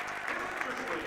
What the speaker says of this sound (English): she gets a nice round of applause